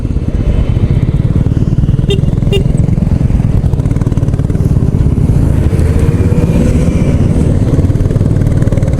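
A group of five motorbikes ridden together near Pokhara gives a steady, loud engine drone that runs unbroken through the whole stretch, with a mid-pitched rumble and no clear gaps or shifts.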